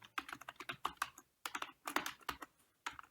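Quick bursts of typing on a computer keyboard, crisp close key clicks in two short flurries separated by a brief pause, with no talking.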